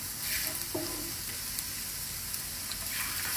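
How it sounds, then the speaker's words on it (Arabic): Meat sautéing in olive oil and solid ghee for a kabsa gives a steady, close sizzle with faint stirring scrapes throughout and no talk. "حطيت زيت زيتون وسمنة، سمنة صلابة طبعا، وشنو وراح أحمس"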